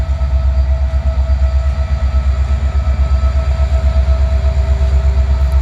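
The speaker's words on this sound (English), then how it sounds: "The lead locomotive on this train was an SD70 Mac." A freight train led by an SD70MAC locomotive rolls past in Kansas City, Missouri, a loud, close, steady rumble with a rhythmic beat from the wheels.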